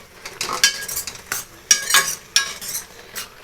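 Bottle gourd halwa cooking in milk in a pan gives soft sizzling under repeated scraping strokes of a spoon against the pot, close and moderately loud, in uneven bursts.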